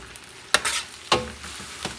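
Sofrito cooking on low heat for arroz con costillas de cerdo, heard as a soft background sizzle broken by two sharper stirring scrapes and a faint third near the end, with no voices.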